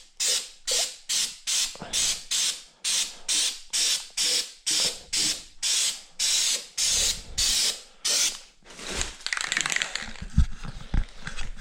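A spray gun lays paint into the shaved engine bay of a Civic truck, sounding as a run of about twenty short, regular hissing bursts close by, then a longer, rougher hiss with clunks at the end.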